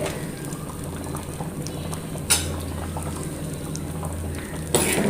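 Sambar with vegetables simmers in a pot, a soft steady bubbling with a low hum beneath, broken by two sharp clinks of a utensil against the pot.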